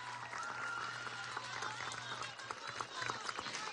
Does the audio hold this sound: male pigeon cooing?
no